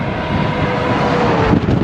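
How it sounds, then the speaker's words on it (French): Strong crosswind buffets the microphone during a bicycle ride in France, in a loud, continuous rumbling roar with no pauses. "Il y a toujours autant de vent."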